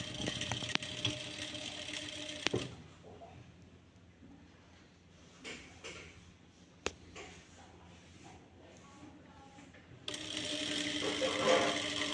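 A sewing machine stitches fabric parts of a bow, with a steady dense whirr at the start and again near the end and quieter handling between.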